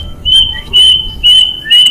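A small bird gives four evenly spaced bursts of high, thin chirping, loud and close against quiet outdoor background noise, with no talk.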